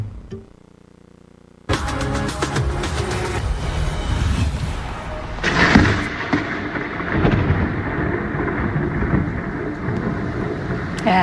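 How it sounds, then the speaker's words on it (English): After a lightning strike in Homewood, Alabama during severe storms, thunder erupts suddenly from near silence into a loud, sustained roaring rumble that swells midway and keeps rolling, with no talk over it. "You heard the roar of thunder."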